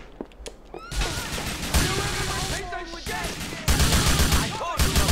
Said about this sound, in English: Why are the police shooting me?